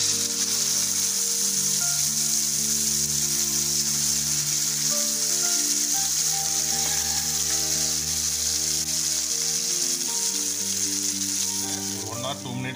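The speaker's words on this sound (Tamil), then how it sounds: "இப்போ நம்ம மிக்ஸியில் அடித்து வச்சதை இதில் போட்டு வதக்கிக்குவோம்." A steady, bright sizzle of ground tomato and chili chutney paste frying in a pan hisses throughout, with soft music playing underneath.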